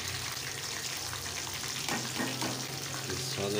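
Spices tipped onto deeply browned onions sizzle steadily in a pan for keema gosht, with stirring scrapes partway through and a continuous close frying hiss throughout.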